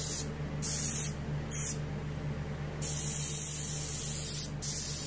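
An airbrush spray gun lays a medium coat of gold pearl paint onto a muskie taxidermy mount, several hissing bursts of varying length over a low steady hum, close by.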